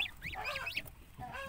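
Several loud, nasal honks from three geese in quick succession, close by, with a short pause before a final honk.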